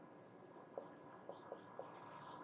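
A pen writes an equation on paper or a board during a maths lesson, producing faint scratchy strokes with a few small taps, close and quiet.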